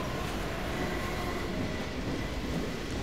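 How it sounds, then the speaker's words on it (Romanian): A train passing in the video game Half-Life 2: a loud, dense rumble of rolling wheels and rattling cars fills the whole stretch, steady and close, with no voices over it. "Oh, hei, un tren."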